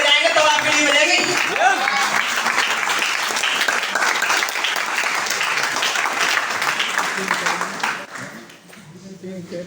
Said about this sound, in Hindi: ताली बजाओ जबरदस्त।